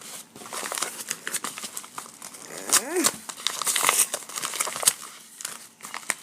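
A crinkly plastic shipping package is crumpled and torn open by hand, with continuous close rustling and crackling while a person talks.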